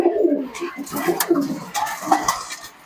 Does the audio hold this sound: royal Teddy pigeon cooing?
yes